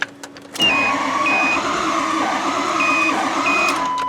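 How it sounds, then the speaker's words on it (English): Ford F-350 with a 6.0 diesel engine cranking over, a steady loud grinding starter drone that kicks in after a short quiet start and runs continuously, with faint high electronic beeps over it. "Let me push up on this ignition switch so it'll crank."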